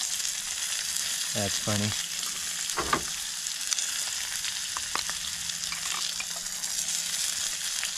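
Steak fries with frozen butter in a pan while camping at a hot spring, a constant bright sizzle with crackles and pops throughout, plus a short spoken remark and a couple of higher voice-like tones early on.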